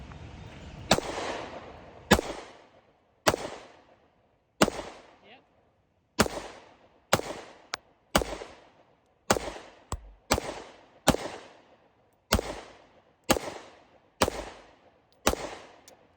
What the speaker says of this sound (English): I'm going to shoot up on the hillside.